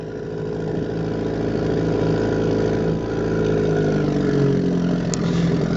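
A 1957 West Bend Pike 6hp outboard boat motor runs close by, a steady, loud, buzzing engine drone with slight rises and falls in pitch.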